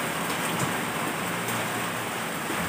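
Heavy rain falls in a dense, steady hiss, close and continuous. It sounds like rain pattering on surfaces, with no voices.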